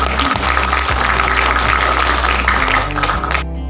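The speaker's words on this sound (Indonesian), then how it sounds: "Tepuk tangan dulu dong buat filmnya." Applause from the audience at a gala film premiere in Jogja: dense, steady clapping fills the whole moment with a low hum beneath, then thins out abruptly at the very end.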